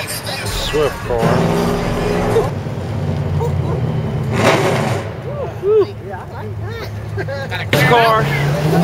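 A Suzuki Swift roars past up close amid street noise, with engine swells and people talking and shouting over it.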